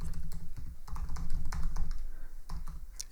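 Someone types quickly on a computer keyboard, with close, dense key clicks falling in rapid bursts and no talking.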